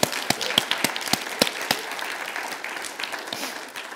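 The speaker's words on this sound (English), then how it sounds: "right now I just want to pause and give a round of applause to Catherine Howard for and all the other conference organizers" Conference audience applauds its organizers at an archives talk, starting with a few sharp distinct claps that blend into a steady wash of clapping, then tapering off toward the end.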